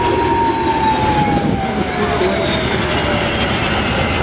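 Jet aircraft passing overhead in formation at the Oshkosh airshow, a loud steady engine roar with a slowly falling whine filling the whole clip.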